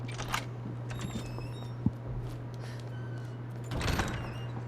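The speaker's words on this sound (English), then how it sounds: "Run over here. Unlock this door." Door being unlocked and opened in Resident Evil 2, a short mechanical click near the middle followed by a longer sliding, creaking door sound toward the end, over a steady low game hum.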